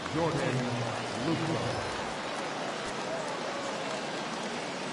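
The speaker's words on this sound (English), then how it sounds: "Yeah, the rain starting to intensify here. It's coming down a little heavier now." Steady rain pours down at a Pirates versus Tigers spring training baseball game, a dense even hiss that grows heavier, with a voice talking briefly over it at the start.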